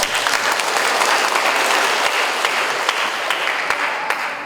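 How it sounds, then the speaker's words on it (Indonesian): Dense audience applause at the opening of an event, a steady wash of many hands clapping at full strength throughout, with a few sharper individual claps standing out near the end. "Tepuk tangan untuk kita"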